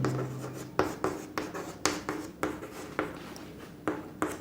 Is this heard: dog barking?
no